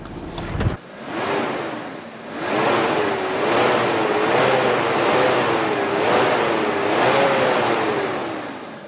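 A warmed-up car engine is revved several times, its pitch climbing and falling in smooth repeated swells under a broad rushing roar, loud and close with no talking.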